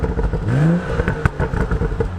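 A 2016 BMW M235i's six-cylinder engine gives a single quick, close rev that rises and drops, followed by a crackling, burbling idle.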